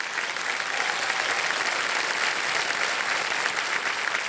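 A studio audience on the TV quiz show Kaun Banega Crorepati claps in sustained, dense applause. It stays fairly even throughout, with no speech over it.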